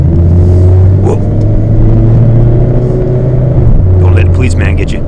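A 2017 Mazda MX5 RF engine drones and revs in a loud steady rumble while the car does a donut with traction control off, with voices talking over it.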